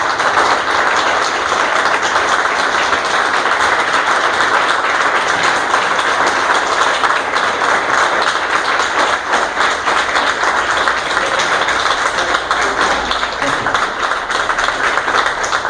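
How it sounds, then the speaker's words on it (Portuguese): A church congregation applauds at an evening service during a couples' lecture: dense, steady clapping fills the room from start to finish without letting up. "E você pode aplaudir a sua vitória nesta noite"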